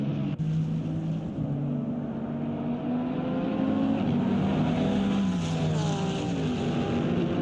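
A Porsche GT race car at the Nurburgring Grand Prix circuit roars steadily and loud, its engine tone rising and falling as it shifts and carries through the corners, with no talking.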